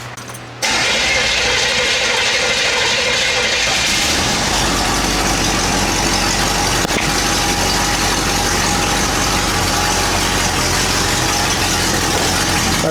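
A 1978 Ford LTD wagon engine with a leaking exhaust flange joint starts with a short crank and then settles into a loud, steady idle with a raspy, puffing exhaust note.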